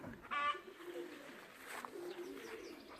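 A racing pigeon back from a 152 km race coos from a barn roof, with a louder burst of calls early on, then softer, drawn-out coos and faint chirps at a moderate distance outdoors.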